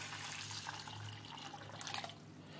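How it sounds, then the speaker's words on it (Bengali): Water is poured into a separate bowl in a home kitchen, a faint, steady splashing trickle with light drips, heard alone for a few seconds. "আমি জল দিচ্ছি।"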